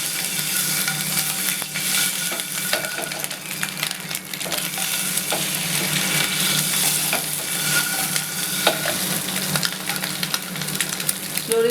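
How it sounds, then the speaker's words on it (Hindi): A tomato mixture for potato and egg curry fries in a pan that is gently shaken, giving a constant loud sizzle with soft scraping and stirring noises and no voices. "तो इसको फ्राई करते हैं, पैन को हल्के हल्के हिलाते रहें।"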